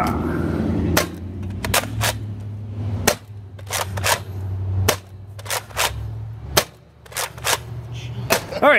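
Rival foam-ball blaster firing orange Banggood ammo, a dozen or so sharp, close shots spaced irregularly over a steady low motor whir.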